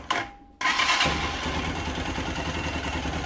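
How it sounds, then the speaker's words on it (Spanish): A motorcycle engine starts up without the throttle being pulled, a short cranking burst followed by a brief pause, then the engine catches and settles into a steady, close, rattling idle. "Una cosa que es muy importante es que su moto encienda sin la necesidad de jalar el acelerador."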